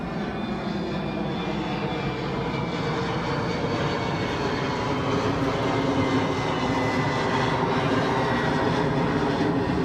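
An airliner departs runway 22 at Chicago O'Hare with a loud, continuous jet engine roar, a deep rumble under a hissing whine that holds steady and close for the whole stretch, with no talk.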